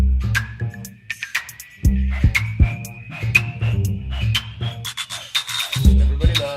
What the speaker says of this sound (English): Everybody loves the sweet tooth sound, right? That's what that sound is. It's EQ.